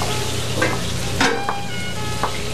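Vegetables, including tomatoes, stirred in a hot frying pan, with a steady close sizzle and a few distinct scraping strokes of the utensil against the pan.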